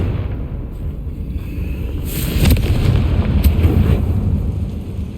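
A Confringo spell blast in Hogwarts Legacy, heard as a loud booming burst that swells midway through a rumbling, noisy game ambience with no talk.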